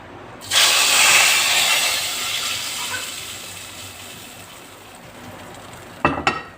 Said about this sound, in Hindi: यहाँ पे हम तड़का देंगे